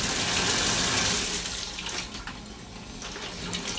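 Tap water runs into a 4moms infant bath tub, a loud rushing stream at first that softens into a lighter splashing flow as the tub fills, with no talking.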